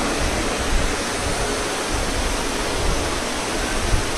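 Heavy rain pours down over an outdoor katha pandal, a dense, steady, loud hiss of falling water without pause and with no voices over it.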